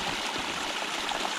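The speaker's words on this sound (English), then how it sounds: "We just got to a water source right here." Creek water streams steadily at a wet, fern-lined backpacking trail water source in West Virginia, a continuous close rushing burble with no voices.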